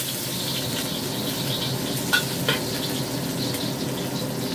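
Garlic frying in hot oil in a wok, a steady soft sizzle throughout with a couple of brief clinks, no talking.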